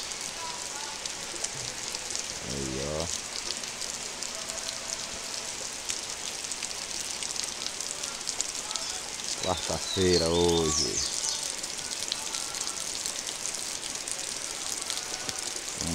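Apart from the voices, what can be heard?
heavy rain falling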